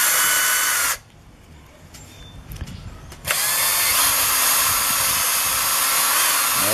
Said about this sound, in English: using a drill.